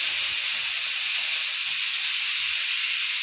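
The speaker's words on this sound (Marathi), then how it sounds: "एक शिट्टी झाली की गॅस बंद करायचा आणि वाफ काढून घ्यायचा." A pressure cooker vents steam after its first whistle while cooking moth beans, giving a loud, continuous high hiss that holds steady the whole time with nothing else heard.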